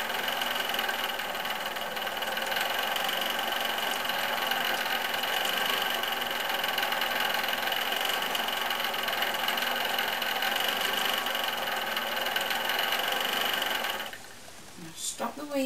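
A great wheel spinning cotton into thread makes a steady, dense whir and hum that stays at an even level for about fourteen seconds, then breaks off into a few softer rustles.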